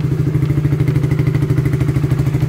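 Motorcycle engine freshly started from cold, running with a steady loud low thumping beat and a mechanical clatter over it, close by and without voices.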